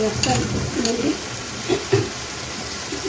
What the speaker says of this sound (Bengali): গ্যাসটা লোতে করে দিয়ে 2 মিনিট কষিয়ে নেব।